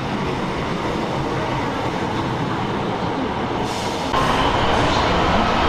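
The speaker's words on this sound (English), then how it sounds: "I think our train is about to arrive." A train pulls into a station on the Swansea District Line in Wales, a steady loud rumble of wheels and carriages that swells near the end as it draws close.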